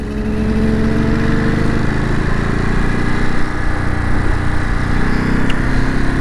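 Kawasaki two-stroke triple motorcycle, an H1 500 or H2 750 classic, pulling away on a ride out, its engine a loud continuous buzzing drone that holds steady throughout with no talk.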